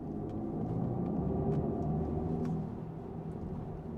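A low, steady Mercedes-AMG EQE electric SUV rumble in Sport Plus mode with a faint whirring drone, fairly constant and moderately loud, easing slightly after a couple of seconds.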